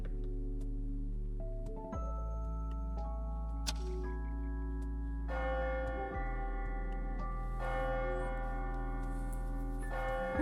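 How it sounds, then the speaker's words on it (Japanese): A clock bell strikes midnight in the video game AI: The Somnium Files – Nirvana Initiative, sounding as layered, sustained ringing tones that swell and overlap over a low droning bed. "何この鐘の音。"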